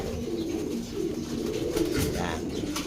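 A racing pigeon coos softly close by, low throaty murmurs running for a few seconds amid light background noise and faint ambient sounds.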